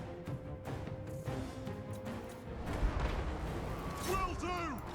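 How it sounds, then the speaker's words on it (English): Cannons firing on a gate during a siege battle in the Total War: Warhammer II game, distant heavy booms and thuds within a busy battlefield din, with voices talking over it. "You are now free to fire at will while the cannons hit the gate."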